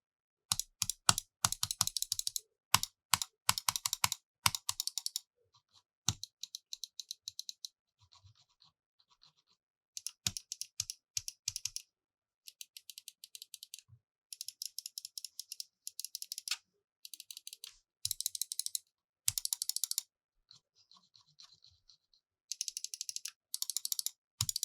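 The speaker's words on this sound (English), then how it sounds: "Here's the sound test of the mouse clicks." Bursts of rapid, sharp clicking from an Xtrfy M42 computer mouse come in short rhythmic runs separated by pauses, crisp and close, with no talking.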